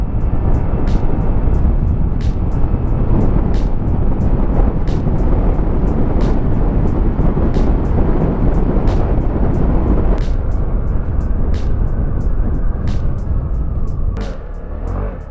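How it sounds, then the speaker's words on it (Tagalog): An ADX 160 scooter's engine roars continuously and loudly under acceleration, heavy wind buffeting the microphone, with sharp clicks and pops scattered throughout. "Narinig yung hiyaw ng makina."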